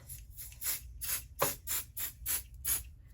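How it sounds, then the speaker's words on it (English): Short hissing bursts of a 505 adhesive spray can, about seven quick puffs in a steady rhythm, close and fairly quiet. "So again, I'm using my 505 adhesive spray."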